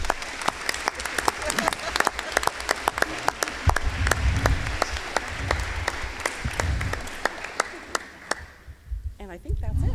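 An audience at the 2024 Vernon town meeting gives a long, steady round of applause, with sharp individual claps standing out, before the room quiets and talking resumes.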